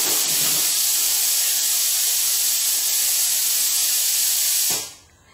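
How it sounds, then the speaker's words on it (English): Loud, steady hiss of steam venting from the pressure release valve of an electrically heated steam engine for several seconds, then cutting off abruptly near the end. "we know the pressure gauge works, and I mean the pressure release valve works"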